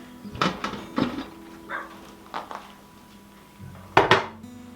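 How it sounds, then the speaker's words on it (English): A pressure canner being opened after processing baked beans, with several distinct metallic clanks and knocks of the lid and pot spaced over a few seconds, the last one loudest. "Time to open the canner."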